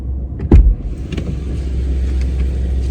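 A car drives along steadily with a low continuous rumble and road noise, broken by one brief thump near the start, on a trip to the post office and to refuel a generator.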